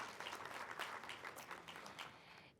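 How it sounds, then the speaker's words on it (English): A scholarship reception audience applauds together, a dense wash of many hands clapping at moderate distance, fairly quiet and tapering off after a couple of seconds. "Clap."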